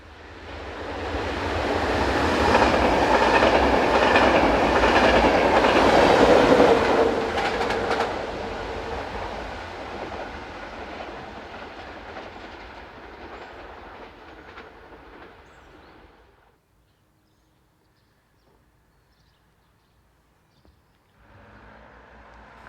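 A Class 1116 electric locomotive, number 1116-114, passes with its train on a European line, a loud rushing rumble with wheel clatter that fades to near silence before a faint return of noise.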